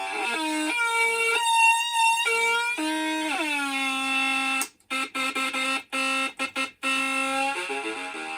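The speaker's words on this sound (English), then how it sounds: "Some of you might have heard of the Atari Punk console." Atari Punk Console, a simple synthesizer built from two 555 timer chips, plays loud buzzy square-wave tones that step and slide in pitch, ending in a run of rapid choppy stuttering notes.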